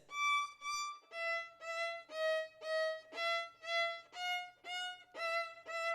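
A bowed string instrument plays a repeated practice pattern, each pitch sounded twice in steady pairs, clear and close with even rhythm, no talking over it.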